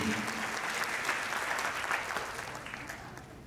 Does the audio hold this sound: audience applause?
yes